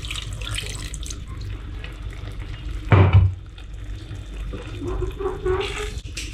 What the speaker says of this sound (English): so I'll add a little bit of water to it.